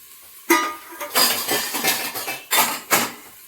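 Metal utensils clink and scrape against a pot while tadka is prepared with turmeric, salt, chopped green chili and tomato for khichdi, giving several sharp, close bursts of clatter with brief pauses between.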